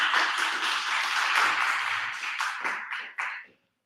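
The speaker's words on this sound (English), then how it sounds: "Big round of applause." Audience applause rising as a performer is called to the stage at a live jam event, a dense steady wash of clapping that thins out and tapers off near the end.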